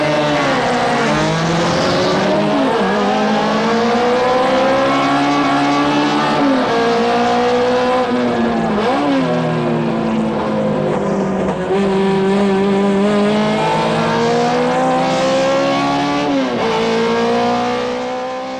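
Toyota Starlet Grand Cup race cars, boosted to over 140 horsepower with lightened bodies, roar past in a continuous loud pack, engines rising and falling through gear changes in overlapping revving waves with no one speaking.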